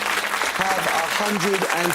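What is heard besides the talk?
applause from quiz contestants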